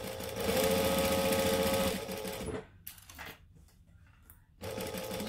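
A sewing machine runs a seam on a McCall's M7281 dress, a close rapid whirring stitch for about two and a half seconds, then brief pauses and short bursts as it backstitches before restarting.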